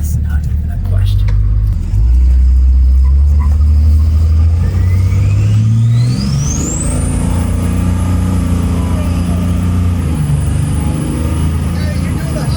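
A loud 1000hp Cummins diesel truck with an O-ringed head and ARP 625 studs pulls hard at highway speed, a deep rumbling drone rising steadily in pitch with a whistling turbo-like whine climbing over it, occupants talking inside the cab.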